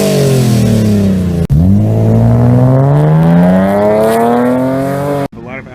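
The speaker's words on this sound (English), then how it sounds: "There's actually a straight pipe on it, which I might be changing soon because it's too loud." A 2002 Lexus IS300 with a straight-pipe exhaust and 4.5-inch tip revving hard, loud close engine sweeps rising in pitch, with abrupt cuts between bursts.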